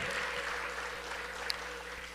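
A church congregation claps together in continuous, dense applause. The sound is steady and full, like a large crowd heard from nearby.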